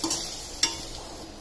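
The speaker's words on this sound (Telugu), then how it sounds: "కారం టేస్ట్కి బట్టి, గరం మసాలా వేసి బాగా ఫ్రై చేసుకోవాలి." Chili powder and garam masala fry in a pan for a tomato curry, giving a steady, close sizzle with one brief click of stirring partway through.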